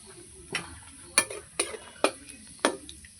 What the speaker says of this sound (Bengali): এই যে দুটো শুকনো লঙ্কা নিয়েছি ফোড়নে দিয়ে দেব